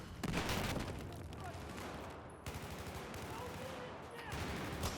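Rapid gunfire bursts from multiplayer Battlefield 4 gameplay, sharp repeated shots and volleys spread across the stretch, fairly quiet overall with a voice occasionally underneath.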